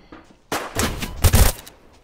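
Several loud gunshots in the video game Deadside, a burst of sharp overlapping cracks with a heavy low-end boom near the end, set against quiet background.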